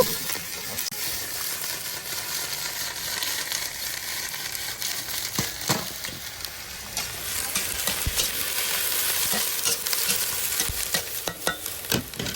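Loud, continuous sizzling and hissing of cabbage stir-frying in a hot wok, with occasional scraping clinks of a utensil, no voices.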